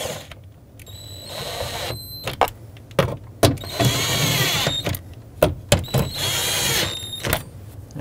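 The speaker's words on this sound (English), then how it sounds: "I'm gonna snug these up just a little." A power tool snugs up 10-millimeter bolts on a 2008-2020 Dodge Grand Caravan sliding door, giving several short whirring bursts separated by clicks and brief handling noises, close and moderately loud.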